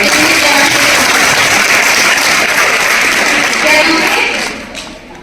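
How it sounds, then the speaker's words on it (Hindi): Audience of students at a girls' senior secondary school moral education and yoga session applauding together, a dense sustained burst of hand clapping that fades out near the end. "इनके लिए ताली बजाओ।"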